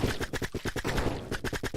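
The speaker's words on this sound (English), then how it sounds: "Why are they shooting already?" Towers in the video game Smol Defense fire in rapid repeated volleys, a steady dense rattle of loud close shots with no voices over it.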